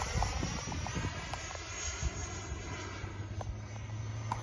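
An Xfly Alpha Jet 80mm electric ducted-fan RC model jet flies past at a model flying club, a continuous airy whine and rush heard at moderate distance, fairly faint with slight fluctuation, no talk.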